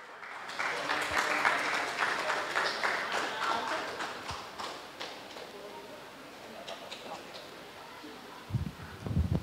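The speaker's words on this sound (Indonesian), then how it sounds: "silakan Tante beri tepuk tangan" An audience at a religious reflection-speaking competition applauds the final participant, with brisk, fairly close clapping that fades out after several seconds and is followed by quieter rustles and a few knocks near the end.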